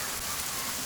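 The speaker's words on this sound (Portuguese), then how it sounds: "começou uma forte chuva" Heavy rain pours down in a dense, even hiss of drops, loud and close, with no speech over it.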